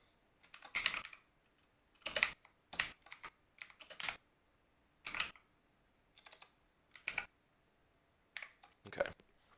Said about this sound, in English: And just for fun, I'll type this one in.